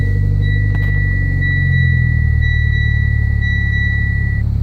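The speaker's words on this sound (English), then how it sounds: "I'm just going to go ahead and start up the vehicle right now so you guys can see what it looks like" A 2014 Mitsubishi Lancer Evolution MR starting and settling into a steady, loud low rumble, with a faint high electronic tone running through the whole stretch.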